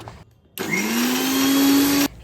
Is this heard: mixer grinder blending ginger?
yes